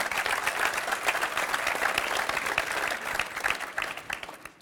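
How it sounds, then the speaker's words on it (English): Audience applause for a panel at a community gathering, a steady wash of many hands clapping at moderate distance, sustained evenly and thinning slightly at the end. "quick round of applause for our panel here for their participation"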